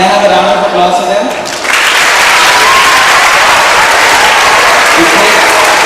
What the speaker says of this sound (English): can I have a round of applause for them?